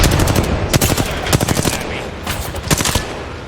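Rapid automatic gunfire from enemies in a shooter video game, loud and close, in quick stuttering bursts of sharp cracks with brief gaps between volleys.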